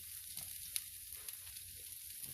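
One large onion goes into the same pan used to brown beef for a stew, giving off a steady, faint sizzle with a few small pops and crackles throughout.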